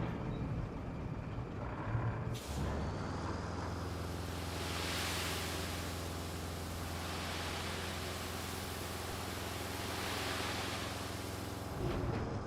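A struggling truck engine in the RoadCraft video game, a steady low rumble under broad, even noise that holds for several seconds, with no voices.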